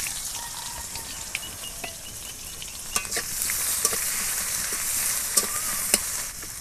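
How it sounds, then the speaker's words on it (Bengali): Chopped onions fry in hot oil in a wok with five-spice seasoning, a steady close sizzle with scraping stir strokes and a few sharp pops. "পেঁয়াজটাকে আমি লাল লাল করে ভেজে নেব।"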